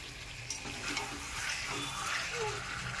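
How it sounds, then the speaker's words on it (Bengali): Potatoes and paneer sautéing with a chilli and tomato spice paste in a pan, giving a steady, soft sizzle and frying hiss with faint stirring scrapes throughout. "একসঙ্গে কষছি।"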